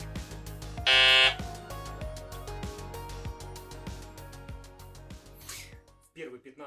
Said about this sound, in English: I'll turn it on now. This will be the first inclusion in this fully assembled form.